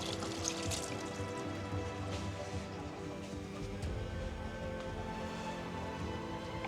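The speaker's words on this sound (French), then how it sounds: "on se relave les mains après avoir touché les œufs" Tap water runs in a kitchen sink as hands are rinsed after handling raw eggs, a quiet, continuous trickle and splash with small irregular spatters throughout.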